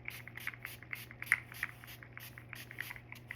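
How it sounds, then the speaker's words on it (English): Skin-tightening spray is released from a spray bottle in a quick series of short, faint hissing puffs in an otherwise quiet room with a low hum beneath. "And then you spray again."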